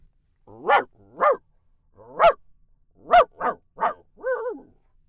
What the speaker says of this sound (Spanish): en ese momento oyó el ronco ladrido de un perro.